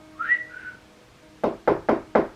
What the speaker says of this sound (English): we heard the whistles clear as day